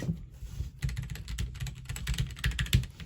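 Rapid typing on a Ducky One 2 Mini 60% mechanical keyboard with Kailh Box Brown switches, a close, uneven stream of clacky keystrokes with a brief pause near the start.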